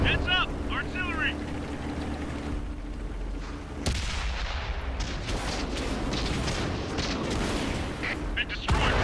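Artillery fire in the tank game World of Tanks: heavy booming blasts and rumbling explosions over engine drone, with a synthetic voice alert at the start.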